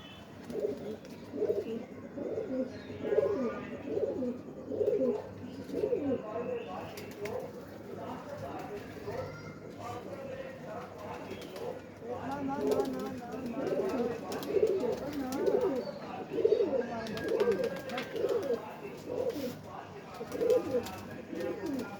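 Pigeons cooing on a red rooftop in repeated soft, throaty bursts, close by, with a voice talking intermittently beneath the birds.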